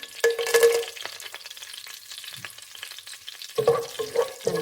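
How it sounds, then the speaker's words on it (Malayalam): Whole spices frying in hot ghee for ghee rice, a bright crackling sizzle that flares at the start, quiets to a faint hiss, then surges again with stirring scrapes near the end. "നെയ്യ് ഒഴിച്ച് കൊടുത്ത ശേഷം നമുക്ക് എടുത്ത് വെച്ചിരിക്കുന്ന സ്പൈസസ് ചേർത്ത് കൊടുക്കാം"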